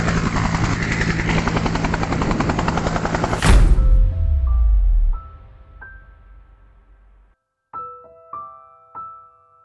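Helicopter at a mining-site landing zone delivering relief goods, a loud close rotor roar that cuts off abruptly, followed by quieter scattered ringing tones and a few soft thumps.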